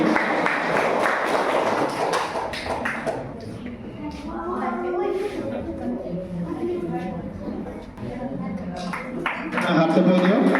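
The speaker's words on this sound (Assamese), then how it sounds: "এটা হাত চাপৰি দিয়ক।" Audience clapping hands at a gathering, a brief burst of applause at the start and again near the end, with a speaker talking over it in between.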